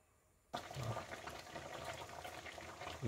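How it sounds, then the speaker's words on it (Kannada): Passion fruit jam boiling in a pot, a soft steady bubbling and popping that starts abruptly after a brief quiet moment and continues evenly, faint and close. "ಬಾಯ್ಲ್ ಆಗ್ತಾ ಇದೆ."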